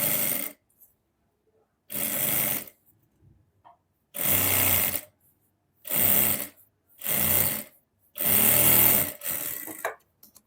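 A sewing machine stitches kameez fabric layered with buckram in six separate bursts of rapid mechanical whirring, each about a second long with short quiet pauses between, close and clear.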